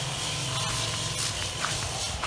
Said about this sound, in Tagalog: nag-spray na po siya